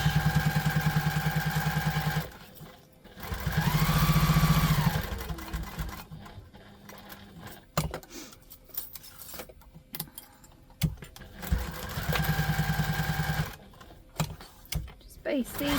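Sewing machine stitching a tote bag runs in two or three bursts of a steady motor hum, with pauses filled by handling clatter and a person talking.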